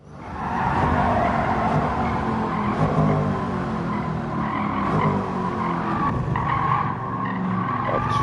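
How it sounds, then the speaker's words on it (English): A De Tomaso race car braking hard at Monza in Gran Turismo 7, tires squealing and skidding in a long, loud screech over the engine note, sustained for several seconds before easing off. "And now the brakes are coming on."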